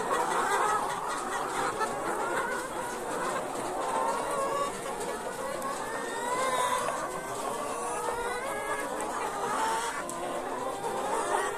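Chickens in a poultry shed at night with the side curtains closed, a dense continuous murmur of soft clucks and chirrups from many birds, steady and fairly loud throughout.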